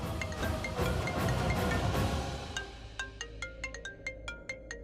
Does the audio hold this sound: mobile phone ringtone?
yes